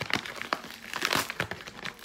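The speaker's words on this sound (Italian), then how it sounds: "Apriamo questa busta." A plastic package being opened and torn by hand, with continuous loud crinkling and ripping up close, alone.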